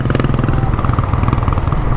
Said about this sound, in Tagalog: And pinademo lang ulit sa atin kung paano i-start saka yung motor.